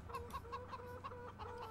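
Chickens in the farming video game Farming Simulator 17 cluck in a quick, regular series of short, close calls, about eight in under two seconds, with no talking over them.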